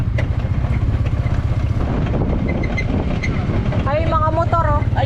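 Several motorcycles passing on a road in the Philippines, heard as a loud, continuous engine rumble close by for the full stretch, with a voice and other voices speaking over the traffic near the end.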